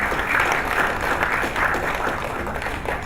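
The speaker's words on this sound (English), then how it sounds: "Please, another round of applause for Okuka." A hall audience at an international affairs institute applauds continuously, dense even clapping throughout at close, loud level with no talk over it.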